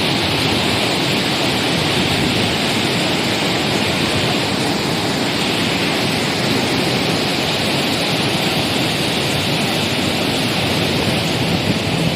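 Fast-flowing water of the Ravi river near the bridge at Head Balloki makes a loud, continuous broadband rush that stays unbroken and even throughout, with no talking.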